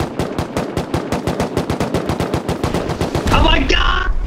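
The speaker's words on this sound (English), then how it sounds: "he's tap firing me." Rapid tap-fired gunshots ring out during a base raid in a video game, a loud, close run of evenly spaced sharp shots that gives way to a different shot and a ringing tone at the end.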